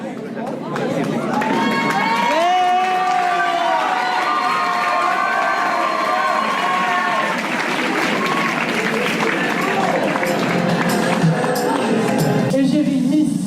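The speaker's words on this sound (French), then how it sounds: "Sous vos applaudissements, s'il vous plaît." Loud audience applause and cheering for a contestant at a Miss and Mister pageant in Réunion, with dense clapping, shouts and whistles from the crowd, and voices over it.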